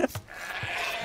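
A short, faint sheep bleat from the Age of Empires video game opens the moment, followed by quiet game ambience.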